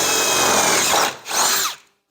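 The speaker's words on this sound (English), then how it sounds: "I do have some metal to drill through here too" A power drill bores through metal during an Air Lift air bag install on a Chevy 1500 truck, whining loudly and steadily, then dipping briefly and revving again before it cuts off.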